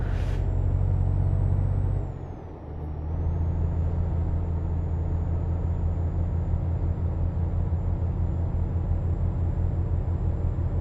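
A heavy truck cruising along a road with a steady low engine drone, a brief dip in level around two seconds like a release of air brakes, then the constant rumble resumes.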